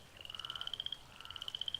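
Frog croaking in The Testament of Sherlock Holmes video game, a steady rapid train of short pulsed croaks repeating evenly, with a brief pause midway, clear and alone with no talk.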